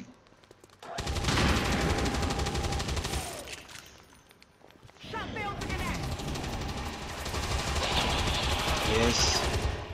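Bursts of gunfire in the XCOM 2 video game, a loud volley in the first few seconds, then a pause and a longer sustained stretch of shooting and game effects, with a voice talking over it.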